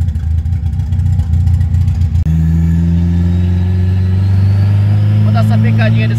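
A square-body VW Gol engine revs in second gear, fitted with a wideband sensor. It is loud and close, with a rough roar that drops briefly, then a steady rising whine as the revs climb.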